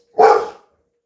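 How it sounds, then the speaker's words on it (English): A dog indoors barks once at squirrels, giving a single loud, close, sharp bark followed by silence. "He barks at squirrels."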